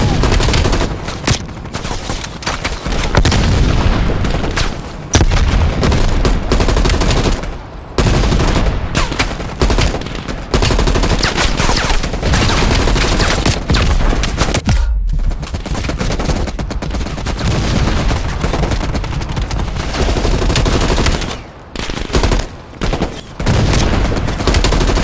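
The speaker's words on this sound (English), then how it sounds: "AA guns, straight ahead" Sustained anti-aircraft gunfire in Call of Duty Black Ops Cold War, loud and dense, with rapid bursts rolling almost without pause and only brief gaps between volleys.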